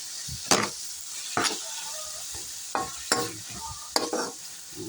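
Chayote and ground meat cooking together in a pan for ginisang repolyo, with a steady sizzle broken by several loud scraping stirs of a spatula at irregular intervals.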